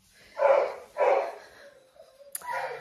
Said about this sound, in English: That's the dogs next door.